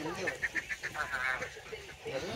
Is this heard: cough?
no